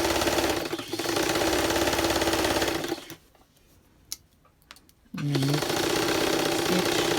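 A sewing machine runs a zigzag stitch along a bodice seam in loud, close, whirring bursts that stop for a couple of seconds, leaving clicks and a brief voice, then resume.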